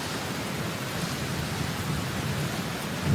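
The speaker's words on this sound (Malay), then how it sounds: "Alamak, hujan lah pula." Steady rain pouring down outside a complex at night, an even, dense hiss of drops on surfaces throughout with no pauses and no voices.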